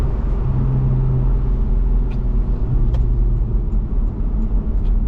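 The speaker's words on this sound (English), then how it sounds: "Back into manual mode now, shifting with these rather awkward paddles." A 2013 Porsche 911 Carrera S Cabriolet's engine drones steadily and loud at close range, a low rumbling hum under the wind, with faint clicks as gears are changed through the steering paddles in manual mode.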